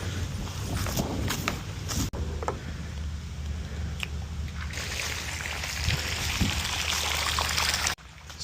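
Pool water draining out through a pump hose gives a steady, hissing, trickling wash with scattered small knocks and footsteps nearby, running continuously with two brief cut-outs.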